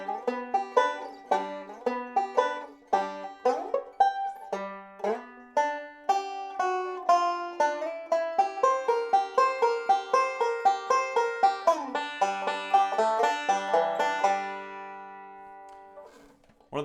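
A banjo plays a bugle-call lick slowly in bluegrass style, bright plucked notes in a steady rhythm that quickens slightly before ringing out at the end.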